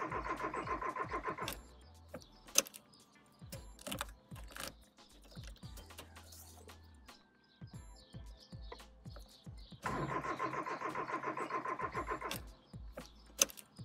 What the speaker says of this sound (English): The car doesn't start, and check engine warning lights on the dashboard.